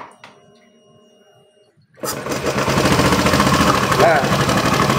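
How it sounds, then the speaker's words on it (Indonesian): Honda Vario 110 FI scooter engine starts after a quiet pause with a few sounds, then idles loudly and roughly with a steady rumbling, uneven note close by. "Kita nyalakan dulu teman-teman motornya."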